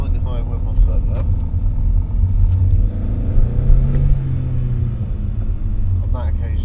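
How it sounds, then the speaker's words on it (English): A learner driver's car pulls away hard from a junction, the engine note rising steadily and rumbling close up through the cabin with no talk over it. "On that occasion then, harder acceleration."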